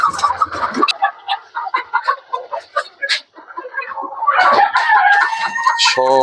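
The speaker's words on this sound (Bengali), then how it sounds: "সব এক কালারের, এক জাতের মুরগি।" A flock of same-breed hens on a rooftop cluck in a close, lively chorus while a rooster crows, and the calling builds into a thicker, louder stretch near the end.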